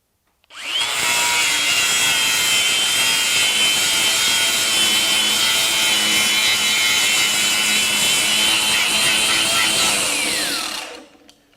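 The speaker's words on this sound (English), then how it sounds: "We're going to turn this on, and we're going to grind some of this paint and metal off of here" A DeWalt FlexVolt DCG416 angle grinder grinds paint and metal off a surface with a loud, continuous, bright whine that starts abruptly, holds for about ten seconds and then winds down.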